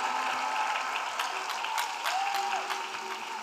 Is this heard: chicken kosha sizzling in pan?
no